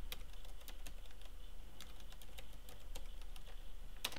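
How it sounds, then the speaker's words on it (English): Quiet keystrokes on a computer keyboard as a password is entered at a Linux terminal, a scattered run of light clicks with a louder tap near the end, no talking. "Type in your password."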